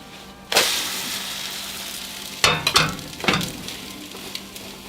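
Food flipped in a frying pan: a steady background sizzle with a sharp burst of frying at the start, then a few louder splattering crackles as it settles, close and with no talking.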